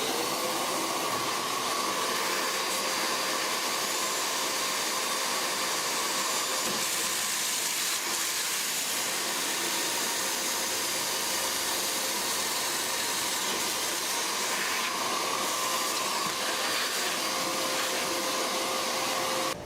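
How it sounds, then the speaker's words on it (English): Vacuum cleaner running steadily during work drilling into the fuel tank of a Polaris Ranger, a continuous loud whine and rushing hum that holds throughout, with slight shifts in pitch but no talk. "I'm going to turn on the vacuum."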